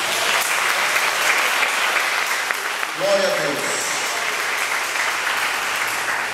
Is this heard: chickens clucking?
no